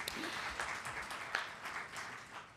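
An evening event audience claps to recognize members of a board of advisors, a soft, fairly distant patter of applause that stays even for a couple of seconds.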